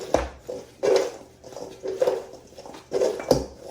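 Brussels sprouts drizzled with olive oil are tossed in a pan or bowl, giving a series of irregular clattering, rolling knocks and scrapes, close by, in uneven bursts.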